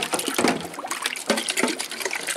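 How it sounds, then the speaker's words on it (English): Running water splashes and trickles steadily into containers being rinsed, a continuous close, moderately quiet wash with small irregular bursts and no voices. "I'm just gonna sit here and make sure everything gets good and rinsed out."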